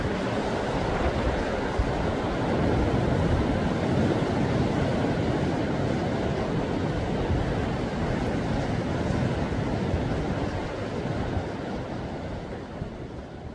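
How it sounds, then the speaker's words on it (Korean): Ocean waves breaking against the shore beneath Naksansa temple in Yangyang, a continuous broad roar of surf with wind rushing over it, steady and loud throughout and easing slightly toward the end. "단 한 번도 멈추지 않았을 파도 소리가 손끝에서 가슴으로, 머리끝에서 하늘로 닿을 것 같은 예불 시간의 종소리처럼 밀려듭니다"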